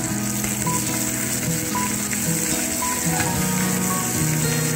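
Ivy gourd and sliced onion frying together in a pan with salt, a steady close sizzle with faint scraping and clinking underneath throughout.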